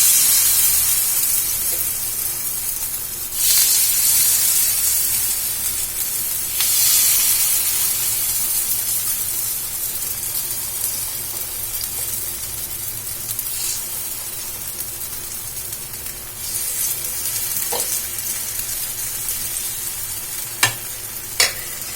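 Green pea paniyaram batter sizzles in hot oil in a paniyaram pan, a steady close hiss that surges as batter is ladled in, with a few sharp clicks near the end.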